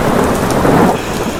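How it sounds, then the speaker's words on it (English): Heavy rain pours with a dense, loud roar that swells and rumbles like thunder, filling a short stretch with no voices. "All this rain. It's getting overbearing."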